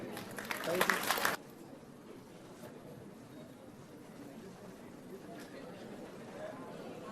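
Audience applause at a university commerce and management conference in Mumbai for a singer, a short loud burst of clapping that cuts off abruptly, followed by quiet room murmur and faint chatter.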